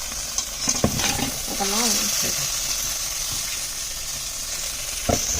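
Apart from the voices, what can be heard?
frying eggplant and peppers in a pan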